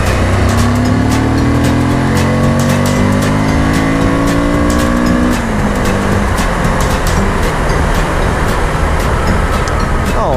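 A motorcycle engine on a Sunday road ride revs loud and close, pitch rising through the gears then dropping and climbing again, with steady wind roar over the rider's helmet.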